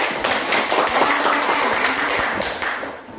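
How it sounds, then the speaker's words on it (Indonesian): Group of pupils clapping in an elementary classroom, a dense, steady burst of applause lasting about three seconds at close range before tapering off. "Kelompok 1, tepuk tangan dulu."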